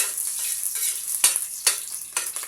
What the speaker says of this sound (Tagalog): Kumukulo-kulo na yan guys.